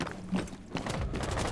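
Horse hooves clop in a quick, rhythmic patter during a Rainbow Six Siege match, moderately loud against busy game ambience.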